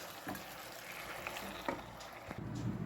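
Spiced tempering with salt and turmeric sizzles in a pan as it is stirred, a soft steady frying hiss punctuated by light scraping clicks of the spoon, close and fairly quiet.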